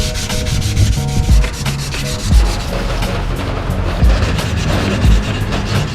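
Close, steady back-and-forth sanding of a plastic car front grill, a loud gritty rubbing with rhythmic strokes throughout.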